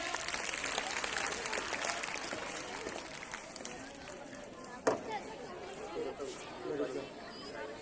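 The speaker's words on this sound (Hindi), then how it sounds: "एक बार जोरदार तालियां" Applause from a school crowd at a National Mathematics Day celebration rises then fades to scattered claps, with murmuring voices and a brief thump near the end; fairly faint overall.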